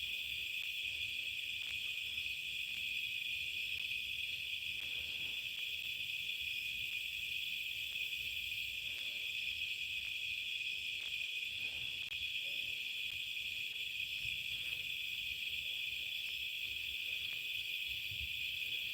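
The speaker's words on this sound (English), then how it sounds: "The bugs are really loud tonight." Crickets and other insects chirp loudly on a farm at night, a dense, unbroken high trill holding steady throughout with faint scattered background noises beneath.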